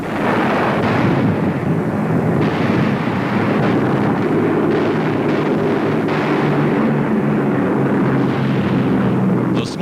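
American destroyers bombard a Japanese airfield on an island, a continuous heavy rumble of blasts and booming gunfire with roaring wind-like noise, loud and sustained across the whole stretch.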